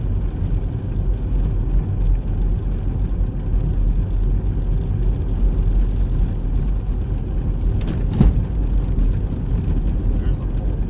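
Car driving on a winter storm road in Northwest Arkansas, with a continuous low road and engine rumble and a brief jolt near the end. People talk over it.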